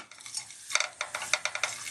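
A potato pancake sizzles and crackles in a frying pan, with bursts of spattering and scraping that pick up partway through, close and fairly loud with no talking.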